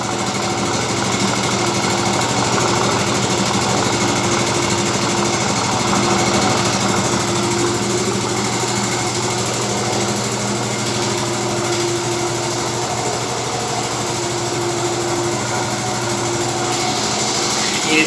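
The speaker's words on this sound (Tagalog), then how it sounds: "Patayin muna natin yung compressor." Air compressor running steadily and loud close by during sanding work for a varnish repaint, a continuous motor drone with no talk over it.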